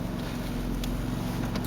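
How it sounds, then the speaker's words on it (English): Idling exhaust of a Nissan B15 Sentra fitted with new aftermarket headers, a steady low rumble with regular pulsing, continuous and fairly close throughout, with no talking. "You can hear the exhaust a lot more."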